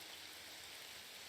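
Rain falling steadily in the Nancy Drew game Legend of the Crystal Skull, a soft and even hiss that never lets up, quiet and heard alone with no voices.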